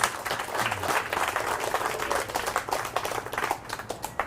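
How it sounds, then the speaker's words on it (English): Audience applause in honor of Maine historian Herb Adams at a July 4th Declaration reading, a dense, steady wash of many hands clapping close by for the full stretch. "let's have a nice round of applause for Maine historian, Mr. Herb Adams"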